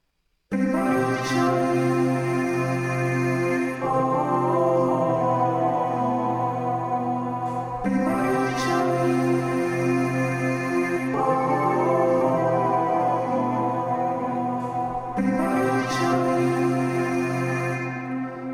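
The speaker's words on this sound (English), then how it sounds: "now let's hear what everything sounds like all together, with the hums, with the melody, and with all like the vocoder stuff" A homemade remake of a song's chorus, layering hummed parts, a melody and vocoder-processed voices into a dense, sustained blend that cycles through repeating phrases at steady volume for about eighteen seconds.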